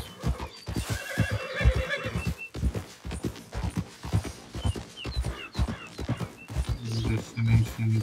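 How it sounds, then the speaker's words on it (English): A horse in the video game Red Dead Redemption 2 neighs and snorts up close, with steady clip-clop hoofbeats and breathy panting throughout, no talking. "This American horse."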